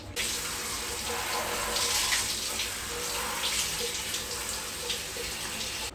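Water runs in a steady splashing stream over a Hoya plant to flush out nesting ants, close and continuous with faint handling noises.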